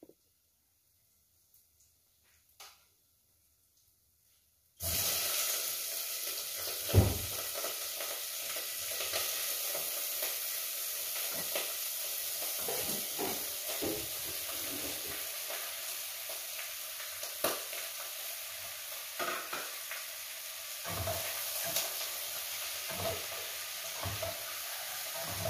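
Seashells and crab hitting a heated pan, a sudden loud sizzle after near silence that keeps crackling and hissing steadily, with occasional clatters of shells shifting.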